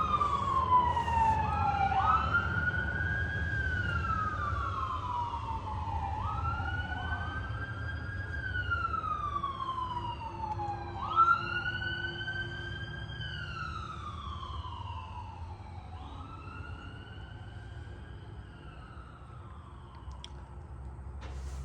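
Several wailing sirens rise and fall in overlapping sweeps, moderately distant, over a low outdoor hum as emergency vehicles pass.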